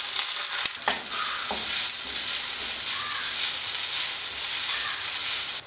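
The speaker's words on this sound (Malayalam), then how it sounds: "ഇതിലേക്ക് നമ്മളിവിടെ ചതച്ച് വെച്ചിരിക്കുന്ന തേങ്ങ ചേർത്ത് ഒന്ന് മൂപ്പിച്ചെടുക്കണം" Crushed coconut sizzles steadily in hot oil with mustard seeds, shallots and curry leaves while a taro stir-fry is made. The frying hiss is even and close, with a few brief stirring scrapes near the start.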